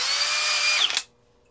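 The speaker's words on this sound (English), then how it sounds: "Flex hammer drill with the turbo mode and all that" A brushless Flex cordless hammer drill whines loudly at high speed for about a second, then winds down and stops abruptly, leaving near silence.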